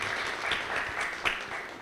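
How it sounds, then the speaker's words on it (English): Conference audience at a 5G/6G blockchain cybersecurity summit claps for a speaker, a short burst of soft, scattered applause heard from across the room. "A round of applause for Sajan."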